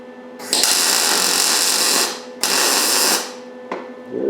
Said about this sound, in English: You're gonna have to get this welder tuned in.